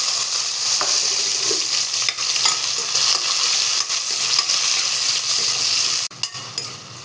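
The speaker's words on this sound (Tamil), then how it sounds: "பூண்டு ஒரு பூண்டு போட்டிருக்கேன் இதையும் ஃப்ரை பண்ணி எடுத்துக்கிறேன்" Garlic and tomato fry in a pan, a steady close sizzle with stirring scrapes throughout and a sharp clatter near the end.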